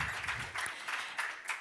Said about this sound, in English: let's give them an applause